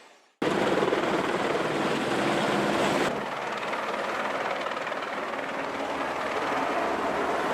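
A helicopter landing in a brownout on a university parking lot roars loudly and close, its steady rotor and engine noise starting abruptly and continuing throughout, easing slightly midway.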